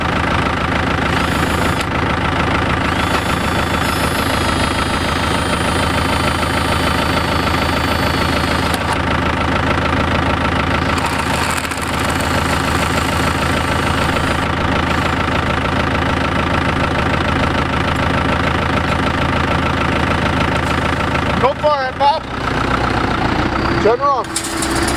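A farm tractor's engine idles steadily and loudly for the full stretch, a constant low rumble with people talking over it and a few brief clunks near the end.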